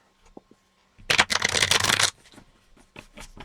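Playing cards riffle-shuffled for an APBA soccer tabletop game: one dense, loud burst of rapid card flutter lasting about a second, followed by softer taps and card handling.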